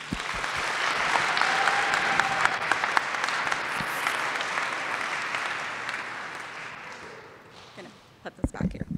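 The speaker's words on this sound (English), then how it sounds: "Let's give a round of applause for our alumni speaker, Sonia." Audience at a school mental health initiatives assembly applauding an alumni speaker, steady sustained clapping from a large crowd that fades out near the end.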